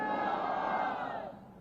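A crowd at a Congress party rally chanting a slogan for Mallikarjun Kharge, a loud, massed chorus of voices that swells and then fades toward the end.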